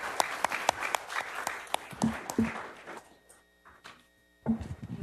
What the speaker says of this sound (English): we'd like to applaud Allison Liang, academic decathlon gold medal recipient for highest overall team score